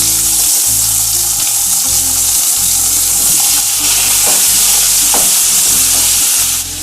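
Potatoes fry in a pan with garlic for a crispy potato dish, a loud continuous sizzle broken by repeated scraping stirs close up, with no voices.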